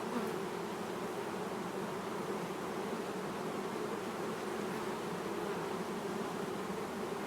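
Honey bees in an opened mountain hive give off a steady, dense buzzing drone, close and even throughout, with no speech over it.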